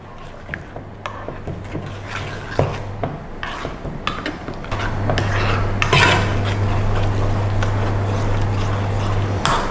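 Cream sauce simmering in a pan with a little sugar and caramelized onion, steady low bubbling and hiss with intermittent clinks and scrapes of a utensil against the pan.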